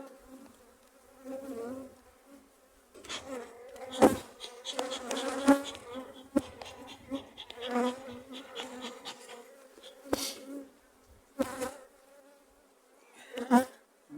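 Dense, steady buzzing of many honeybees close by at a strong hive, with occasional sharp knocks and bumps punctuating the hum.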